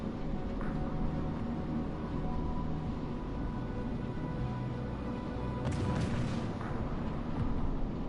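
Warship gunfire from a Tier III French ship in World of Warships Legends: a steady low rumble of sea and engine noise, broken by one sharp, fairly distant boom near the end.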